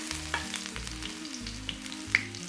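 Finely chopped ginger fries in hot oil with popping fenugreek seeds for a Kerala fish roast, a steady close sizzle with faint crackles and small pops, no talk.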